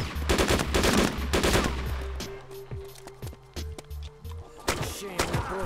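Gunshots crack in DayZ around a church, a flurry of close, loud shots followed by sparser single reports echoing, with some rhythmic background music tones.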